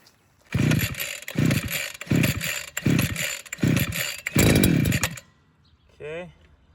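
A cheap gas-powered water pump engine from Amazon coughs and fires in a series of loud pull-start bursts, then catches and runs briefly at a raspy, high-pitched idle before cutting out.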